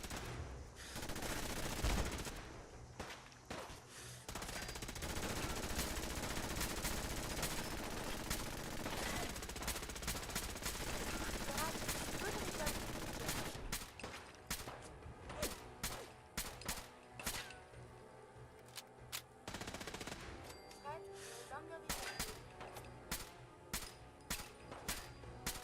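Dense, sustained gunfire roars in the post-apocalyptic game Wasteland Warrior, with rapid overlapping shots for the first half, then thinning into scattered, sharp single cracks and short bursts.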